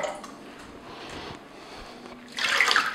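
Water poured into a container to make up about 450 millilitres of a percent solution, a soft trickling splash that swells into a brighter, louder pour near the end.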